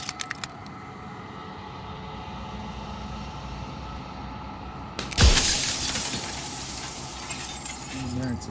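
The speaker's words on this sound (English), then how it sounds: "It's jagged shards of broken glass." Glass shatters loudly in the Slay the Princess game, a sudden crash followed by a lingering scatter of falling shards over a low ambient drone.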